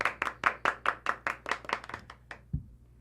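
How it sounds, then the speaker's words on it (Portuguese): About a dozen quick, close hand claps from a small group on a football podcast, a crisp rhythmic burst that thins out and ends with a soft thump. "Palmas pro Galdino, merece."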